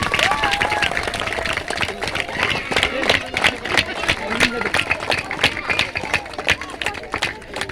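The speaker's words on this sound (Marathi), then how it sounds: "जोरदार टाळ्या वाजवायच्यात." A crowd applauding at a village cultural programme's prize-giving ceremony, with dense, steady clapping that persists for several seconds while voices call and chatter over it.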